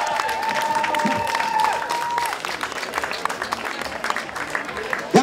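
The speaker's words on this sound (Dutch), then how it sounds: "Graag uw applaus voor deze mensen en voor Emily." Outdoor crowd applause at the Steenbergcross 2014 cyclocross podium ceremony, a loud sustained clatter of many hands with a tonal horn-like note and some cheering mixed in.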